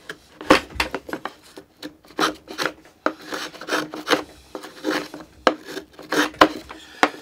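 A hand plane from a budget plane tune-up shaves small wood curls in about a dozen close, rasping strokes with short pauses between them. No voices.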